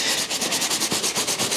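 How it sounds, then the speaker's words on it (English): Medium bristle brush scrubbed by hand across the uppers of Jordan sneakers to work up suds, a close, loud rhythmic rasp of quick back-and-forth strokes with no talking. "Scrubbing this up, hitting the uppers to create the suds,"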